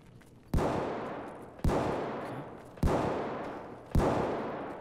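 Four loud, sharp gunshots in Escape From Tarkov's Factory map ring out at roughly one-second intervals, each with a booming onset and a long decaying reverberant tail that fills the gap before the next.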